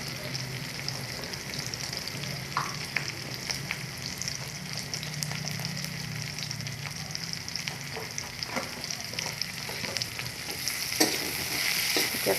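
Onions being stirred as they fry in hot oil with salt and turmeric, a steady close sizzle running throughout, with occasional scrapes and clinks of the stirring spoon.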